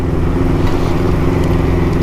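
A 1981 Honda CB900F four-cylinder motorcycle engine runs in a steady, dense rumble, close and loud, with no voices over it.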